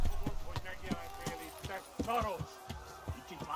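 Hooves clip-clopping as a horse is ridden in Kingdom Come: Deliverance, a steady rhythmic trot of dull thuds at moderate level, mixed with faint game sounds and a brief tonal cry partway through.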